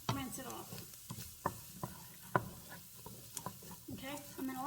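Garlic and onions sizzle in a pan for chicken and rice soup, a steady faint frying hiss broken by several sharp clicks of stirring and utensil taps.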